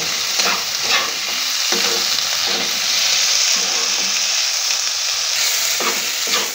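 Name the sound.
frying and stirring in a pan for spicy chutney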